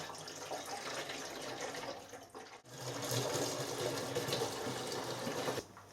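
Water pours into the tank of an R-Tech welding torch water cooler, a steady broadband rush that briefly breaks near the midpoint and then resumes before stopping abruptly.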